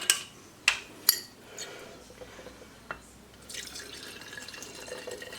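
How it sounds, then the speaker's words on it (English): Vodka poured through a regular funnel into a bottle of vanilla beans, a soft trickling liquid pour running steadily after a few sharp clinks, faint and close. "I'm going to pour my vodka right in there"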